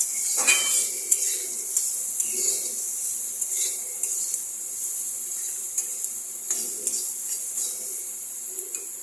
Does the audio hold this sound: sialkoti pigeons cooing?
no